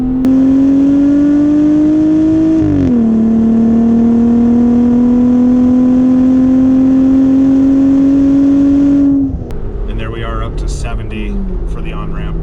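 A 2020 Jeep Wrangler JLUR with a K&N exhaust pulls away from a red light, its engine droning as the pitch climbs, briefly drops at a shift, then rises again before easing off into road noise.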